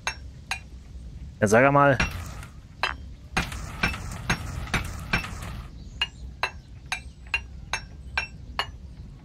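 In the forging game BlackForge VR, a hammer strikes metal again and again with bright ringing clinks. The blows come in a quick irregular series and then spaced single hits, with a burst of grinding noise and someone speaking briefly.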